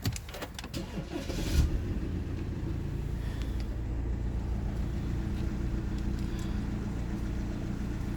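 A car engine cranks with a few clicks, catches after about a second and a half, then settles into a steady, close idle rumble that runs on without talk.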